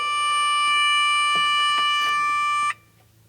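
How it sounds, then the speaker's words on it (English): A loud, steady electronic buzz from the ignition buzzer of a 1979 MG left unused for decades drones for nearly three seconds and then cuts off abruptly, leaving quiet background noise. "It was like an ignition buzzer?"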